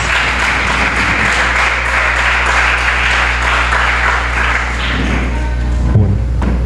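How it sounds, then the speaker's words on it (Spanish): An audience at a cultural event at the Universidad del Pacífico gives loud, steady applause to welcome a speaker, the clapping dense and sustained before easing off near the end with a brief thump. "Con un fuerte aplauso recibamos al doctor Andrés Ramírez."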